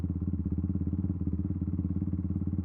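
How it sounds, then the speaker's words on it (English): A motorcycle engine runs steadily at close range with a fast, even pulsing throb and no voices. "revving every now and then"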